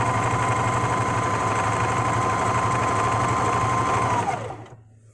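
A sewing machine stitches fabric in a fast, steady whir of even needle strokes, close and clear, then slows and stops in the final second, leaving silence.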